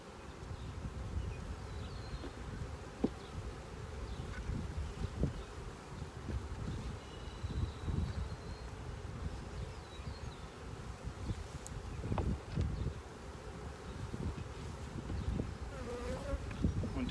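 Honeybees swarm around an open hive frame holding brood and queen cells, a dense, steady buzzing drone close by, with scattered louder passes of individual bees.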